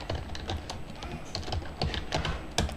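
Computer keyboard typing while text is entered into a file, a steady run of light, close key clicks with short pauses and a few sharper strokes, with no talking.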